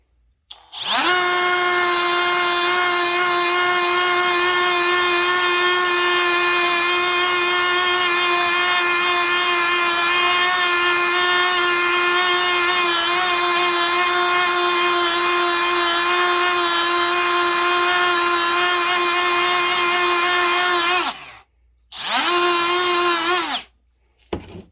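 Milwaukee and Ryobi die grinders fitted with a Ryobi disc, whining loudly and steadily for about twenty seconds with no one talking, then cutting off and briefly spinning up again before stopping.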